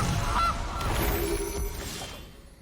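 The Gilded Goose card in a digital card game honks as a loud synthetic goose call near the start, then trails off into a fading game effect with no talk.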